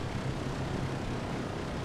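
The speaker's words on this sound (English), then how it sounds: "Two engines up and running." Twin radial engines of a Douglas DC-3 in a flight simulator game, running steadily after start-up, a continuous loud broadband drone with a low throbbing hum and no talk over it.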